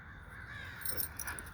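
Crows caw from high in a tall tree roughly 60 to 70 feet up, a few hoarse calls clustered in the second half over a steady outdoor background, fairly faint and distant.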